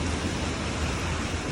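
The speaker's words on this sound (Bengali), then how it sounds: "ফুটি ফুটি বৃষ্টি, এটা কোনোভাবেই থামতেছে না।" Heavy rain in Dammam, Saudi Arabia, falls as a dense, steady roar of broadband wash with no breaks, loud and close.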